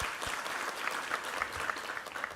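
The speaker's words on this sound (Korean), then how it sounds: "우리 하나님께 감사와 영광의 박수 올려드리겠습니다" A church congregation applauds during a Sunday worship service, with a steady patter of many hands that is moderately distant and fairly soft, sustained without break across the short span.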